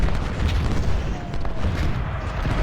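Artillery fire in the Ultimate General: Civil War battle game, a dense rumbling wash of booms and cannon blasts layered into continuous loud low thunder.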